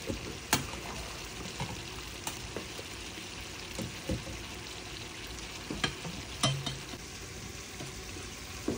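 Beef curry braises in a pan with a soft, low frying hiss, broken by occasional quiet clicks and taps of stirring at irregular intervals, fairly faint and without any voices.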